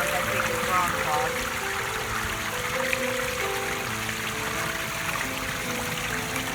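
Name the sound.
pond waterfall flowing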